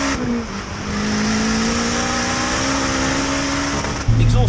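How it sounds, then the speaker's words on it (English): A 370 bhp turbocharged Honda Civic EP3 with a Tegra cat-back, decat and downward screamer pipe runs on boost, giving a loud, sustained, rising exhaust roar with a whistling turbo tone, then a sudden shift near the end. "a screamer pipe that's literally facing the bottom of the engine all the way down to the ground"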